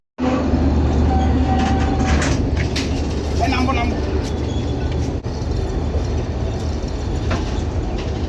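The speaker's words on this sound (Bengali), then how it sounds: "এই হচ্ছে চিলাহাটি রেলওয়ে স্টেশন এর" A train at Chilahati railway station produces a loud, continuous low rumble and rolling noise close by, while a person talks over it.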